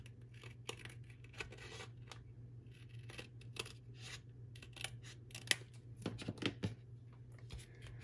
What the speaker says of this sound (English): You can always take your scissors and trim it off.